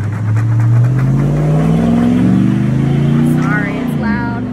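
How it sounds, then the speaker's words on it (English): Passing cars on a busy road beside a house, engines rising and falling in a steady loud wash of traffic noise, with one vehicle accelerating close by near the end. "I live next to a busy road."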